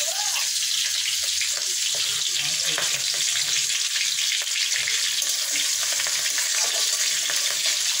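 Green and dried chillies fry with spices in a hot pan, giving a steady, close sizzle with scattered crackles and occasional stirring scrapes throughout.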